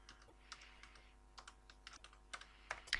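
Someone types a contact name on a computer keyboard in accounting software, a quick irregular run of soft, close key taps with no voices.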